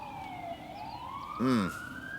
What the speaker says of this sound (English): Ambulance, fire truck.